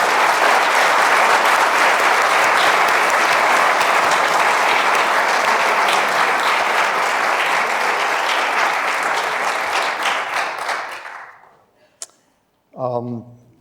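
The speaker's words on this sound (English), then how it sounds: "Could we have just another warm welcome and round of applause for the Darien Troop Scout Troop 53 and the Tudor Singers." A large crowd at a bicentennial opening ceremony applauds Darien Boy Scout Troop 53 and the Tudor Singers with loud, dense clapping that runs for about eleven seconds, then dies away, followed by a brief voice.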